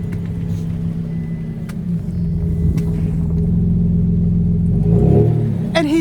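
A car's engine drones and revs up as its wheels spin and slide in deep snow during a North Carolina snowstorm, a low steady rumble that swells louder toward the end, with a brief sharper noise at the close.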